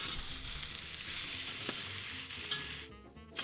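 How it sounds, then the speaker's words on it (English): Bombay potatoes with chilies and spices sizzle steadily in a pan over a campfire while being stirred, a continuous close frying hiss with small scraping clicks. "And we'll give that a nice good stir."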